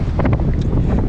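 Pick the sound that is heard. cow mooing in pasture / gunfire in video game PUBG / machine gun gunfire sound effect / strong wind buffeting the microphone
strong wind buffeting the microphone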